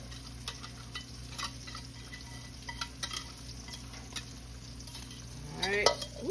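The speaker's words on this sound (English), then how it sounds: "I'm gonna get that mixed together, get all that cheese incorporated with that pasta" Cheese being stirred into cooked pasta for homemade mac and cheese, a soft, steady scraping and squelching of the mixture in a pot, quiet throughout with a slightly louder burst near the end.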